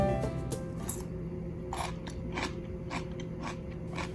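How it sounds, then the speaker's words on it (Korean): Close, crisp crunching of cucumber kimchi fermented more than ten days, chewed bite after bite in a steady rhythm about every half second, with no talking. "열흘이 훨씬 지난 오이소박이도 얼마나 아삭하게 드실 수 있는지 한번 들려드릴게요"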